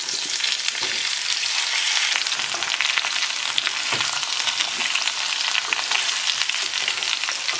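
Cooked breadfruit with curry leaves and mustard seeds sautéing in hot oil in a Kerala-style masala koottu, giving a steady, close crackling sizzle with occasional stirring clatter throughout.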